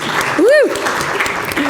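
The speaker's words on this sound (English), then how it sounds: "let's give them a round of applause" Conference audience applauding a panel coming onstage, clapping mixed with a loud rising-and-falling whoop and a voice over it.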